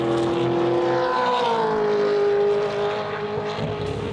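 Racing car engine from a Supercars-style motorsport series, loud and close, holding a high drone that rises then drops in pitch as it shifts and backs off before revving again.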